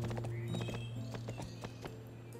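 Galloping horse in the Barbie Horse Adventures: Wild Horse Rescue video game, a fast rhythmic clip-clop of hooves over a steady droning game soundtrack, continuous for a couple of seconds.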